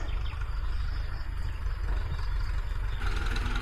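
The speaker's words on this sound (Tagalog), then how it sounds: "Ayos, malaki yung makina." A large engine runs steadily on a farm, a heavy low rumble with a constant drone and no breaks. It sounds close, with no voices over it.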